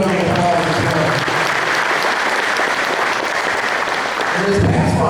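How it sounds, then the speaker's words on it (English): An audience at a touchdown club meeting applauds a high school academic award winner with loud, continuous clapping that holds steady before tapering near the end. "Let's give Brett a round of applause as well."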